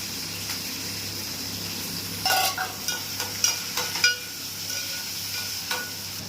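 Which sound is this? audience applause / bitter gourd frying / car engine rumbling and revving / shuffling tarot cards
bitter gourd frying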